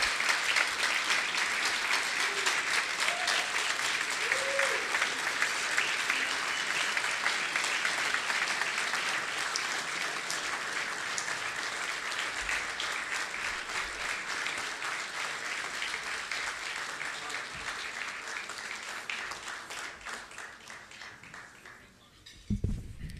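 Sustained applause from a large audience at a yeshiva's anniversary dinner, a dense, even roar of many clapping hands that holds steady for over twenty seconds before tapering off near the end.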